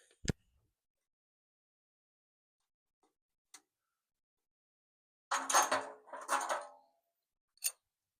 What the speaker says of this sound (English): Drop the nut.